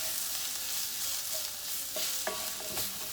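Chopped mushrooms and garlic stirred into a frying onion mixture in a pan, a steady soft sizzle with a few scraping utensil strokes near the end.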